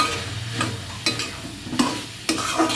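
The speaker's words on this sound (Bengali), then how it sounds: "একটু সাঁতলে দিই।" Fried ash gourd and potato pieces are sautéed in a pan, with a few scraping stirs at roughly half-second intervals over a soft, steady sizzle and low background hum; no one speaks.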